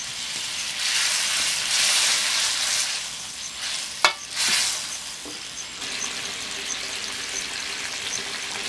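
Octopus cooked with village-style spices, Tuban coastal style, sizzles steadily in a pan while being stirred, with scraping and one sharp knock partway through.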